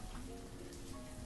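Steady rain falling in the city-building game Banished, a soft continuous hiss of pattering drops, faint and even with no voices.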